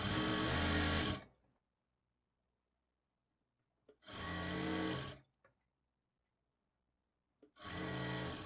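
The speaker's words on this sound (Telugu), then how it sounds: "మీరు ఇలా స్టిచ్ చేసుకునేటప్పుడు క్లాత్ని కొంచెం ఇలా లాగినట్లుగా పట్టుకుంటూ స్టిచ్ చేసుకోండి" Sewing machine stitching thread piping onto cloth, running in three loud bursts of steady whirring motor and needle chatter with silent pauses between, no talking.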